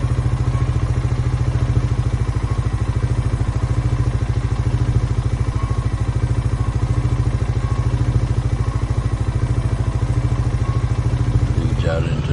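A tractor-type vehicle engine in Farming Simulator 19, driving along a road. Loud, steady low engine drone with a constant rhythmic chug, continuous throughout and alone.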